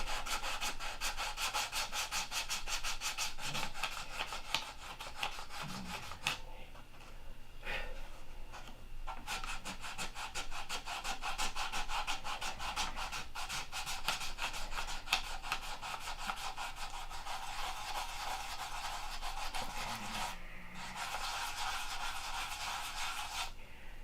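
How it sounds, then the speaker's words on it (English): Wood is sanded by hand in long continuous rubbing strokes with a rough, scratchy texture, close up and steady across the whole stretch, broken only by a few short pauses. "You know, I find sanding very soothing."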